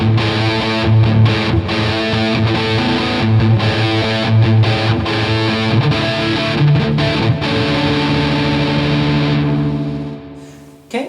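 Electric guitar through a Jam Up Pro XT amp and effects processor plays a sustained, distorted rhythm part with chorus and echo, loud and steady throughout, then fades out near the end with one brief final hit.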